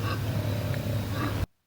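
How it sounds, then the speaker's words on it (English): A low, rumbling growl from an unknown animal outside a tent at night, one sustained close sound lasting over a second before cutting off abruptly into silence. "It sounded like something was growling."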